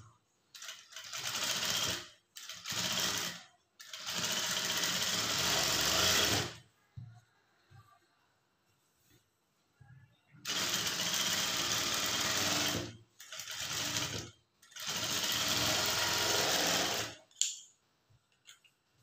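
A sewing machine top-stitching the lining of a blouse runs in close, loud bursts of steady whirring stitching, about five runs of one to three seconds each, separated by short quiet pauses.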